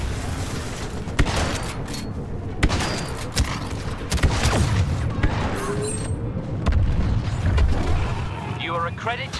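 Detonating charges in Star Wars Battlefront 2 Galactic Assault on Takodana, heavy booms and a barrage of blasts and gunfire rumbling loudly throughout, with game voices speaking over the battle.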